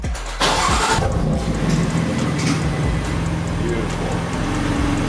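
A BMW M4 with a Bootmod3 Stage 2 tune cranks and fires up loudly, then settles into a steady, rumbling idle close by.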